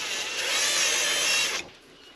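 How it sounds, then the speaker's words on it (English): A power drill with a left-handed bit whines steadily at high speed for about a second and a half on a 1939 Caterpillar D4 bulldozer part, then cuts off abruptly, close and alone. "I'm going to see if I can drill it out"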